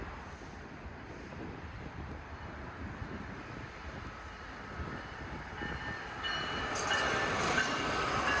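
A Brightline passenger train rolls in, a low steady rumble building gradually and growing louder toward the end, with faint higher rail and brake tones at moderate distance.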